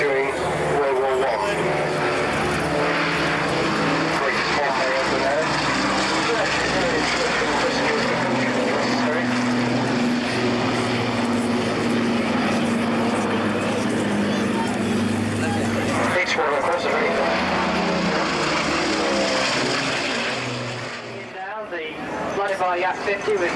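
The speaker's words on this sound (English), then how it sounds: "with Richard Good, who will be giving us a demonstration of his prowess in competition style aerobatics, Russian style" A propeller aerobatic plane flies competition-style Russian aerobatics at the 1989 Barton airshow, its engine droning loud and steady with rising and falling pitch, while a commentator talks over it throughout.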